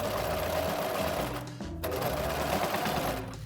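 A domestic sewing machine stitches the armhole facing to the main body of a Mary Quant-style minidress, its motor running in a steady continuous whir with a brief pause partway through.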